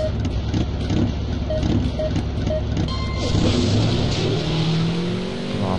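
Drag racing car engine in Drag Racing Simulator holding a steady loud drone, then revving and rising in pitch toward the end, with faint speech under it.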